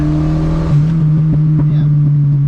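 Volvo wagon engine with turbo boost turned up, a steady low idle-like drone with harmonic hum and a brief rev bump near the start, mild rattling ticks throughout, close and fairly loud.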